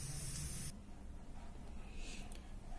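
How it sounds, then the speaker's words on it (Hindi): Steam hisses from a pressure cooker on a gas stove after its first whistle, with the gas turned off and spinach cooking inside; a loud broadband spray for under a second, then a fainter lingering hiss. "कुकर की स्टीम निकल चुकी है"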